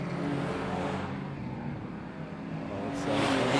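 A damaged stock car engine at a Woodford Glen speedway race gives a continuous rough roar and whir that swells louder near the end, heard with no talk.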